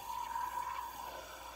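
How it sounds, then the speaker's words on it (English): A syringe drawing up a bleach and water solution, giving a faint, thin steady hiss with a slight whistling tone, quiet and close, without any voices. "So it's pulling that bleach water in there."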